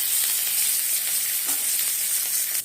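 Onions and green chilies frying in oil in a kadai, a loud, close, continuous hissing sizzle with faint stirring movements underneath.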